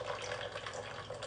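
Water runs steadily from a tap in a homemade equilibrium setup, a continuous close splashing hiss with faint dripping texture throughout.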